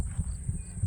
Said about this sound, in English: are crickets and grasshoppers. I don't know if you can hear that.